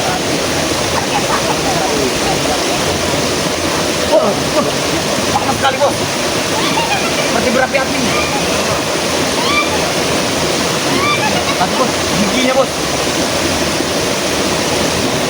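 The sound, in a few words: river water flowing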